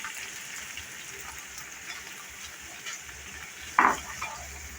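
Chana dal masala with green paste sautéing over high flame in a pan, a soft steady crackling sizzle like light rain, with one sharp utensil knock near the end.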